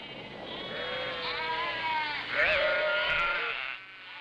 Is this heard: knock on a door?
no